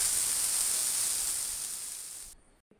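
Tomatoes sautéing with salt in a covered pan give off a steady, soft hiss that holds evenly, then fades and cuts off abruptly at the end.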